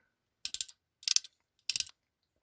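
A Bell System crimping tool is squeezed three times in even succession, each stroke a short cluster of sharp ratcheting clicks, close and crisp against silence.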